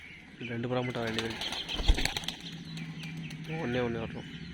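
Pigeons return and settle at a coop, with wing flaps, a sharp landing thump and soft cooing, all under steady talking nearby.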